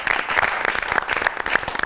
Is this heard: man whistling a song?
no